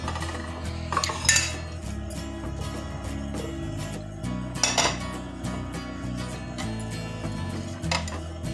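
Carrot sweet being lifted out and shifted onto a plate, with clinks and scrapes of metal utensils on dishes and a couple of louder clattering knocks, close by over a low background hum.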